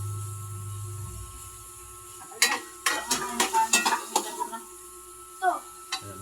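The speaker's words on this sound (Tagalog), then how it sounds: "habang ginigisa ko yan" String beans being sautéed for adobo in a pan: a low hum fades out, then several sharp clattering stirs and sizzles come in irregular bursts, fairly close, with no talk over them.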